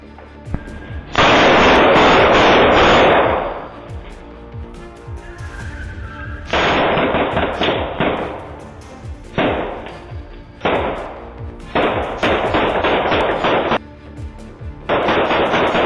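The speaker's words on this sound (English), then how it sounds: "A shootout erupted. Officers returned fire from behind their patrol unit." Bursts of gunfire from a shootout between police officers and a suspect, loud and close, several sustained volleys and rapid strings of shots separated by brief pauses, with no talking.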